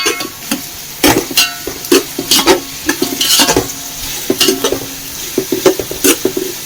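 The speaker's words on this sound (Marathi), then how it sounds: "आता हा कांदा व्यवस्थित आपल्याला तेलामध्ये परतून घ्यायचा आहे थोडा ब्राऊन सारखा होईपर्यंत" Chopped onion sizzling in hot oil in a pan for prawn rice, with a spoon repeatedly stirring and scraping in an uneven rhythm, loud and close, with no talking.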